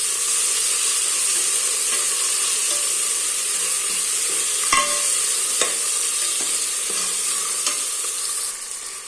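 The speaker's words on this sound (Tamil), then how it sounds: "இதை நல்லா வதக்கி விடலாம்." Tomatoes with ginger garlic paste sauteing in a pan give a steady close sizzle, with a few sharp stirring scrapes and clicks from the utensil against the pan.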